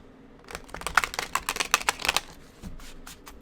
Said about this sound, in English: I will shuffle a little bit more.